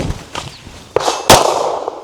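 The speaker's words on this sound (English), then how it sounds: "I fired just a little bit after the stimulus went away." A shooting drill with a handgun produces one sharp, loud gunshot crack, preceded by a softer snap and followed by a short fading tail.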